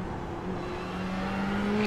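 Race car in an endurance championship event passing on track, a steady engine whine that climbs in pitch and swells louder as it approaches, heard alone at moderate distance.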